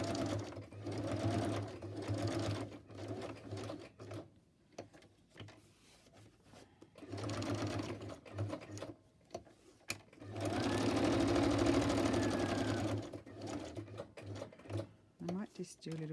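A domestic sewing machine stitches fabric scraps in bursts of rapid mechanical whirring, running near and steady for stretches, with pauses between runs and soft speech in the gaps.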